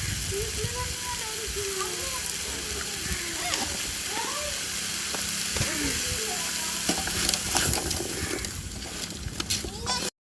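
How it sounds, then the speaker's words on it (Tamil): Vegetables sautéing with rock salt in a pan for vegetable biryani, a dense constant sizzle and hiss with stirring scrapes, while a person talks over it throughout. "இப்போ வந்து உப்பு உப்பு கல் போடுவோம் வதக்க வதக்கி எடுக்கணும்"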